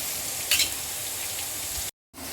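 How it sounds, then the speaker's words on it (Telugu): Potato pieces fry on a high flame, a steady broadband sizzle of hot oil with a brief louder crackle early on and a short dropout near the end. No voices. "పొటాటోస్ని హై ఫ్లేమ్లోనే ఫ్రై చేయాలి"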